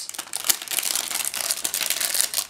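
A small, separately packed plastic bag of parts from a Miniart 1/35 model kit crinkles loudly and continuously up close as it is opened, with a few sharper crackles.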